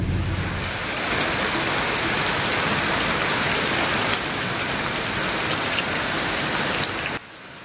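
Rain falls steadily outdoors in a village, a loud, even hiss of drops hitting surfaces that holds constant before dropping away abruptly at the end.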